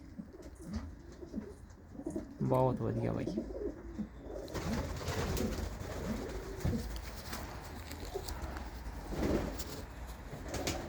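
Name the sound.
pigeon cooing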